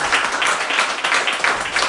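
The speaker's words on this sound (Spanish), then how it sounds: "dale un aplauso" Church congregation applauding during a sermon, dense continuous clapping from many hands, loud and close, with no speech over it.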